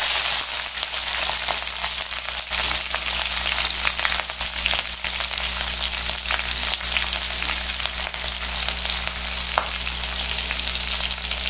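Green chillies frying in oil for a semolina and yogurt breakfast dish: a loud, continuous close-up sizzle with scattered pops and crackles, steady throughout with no talking.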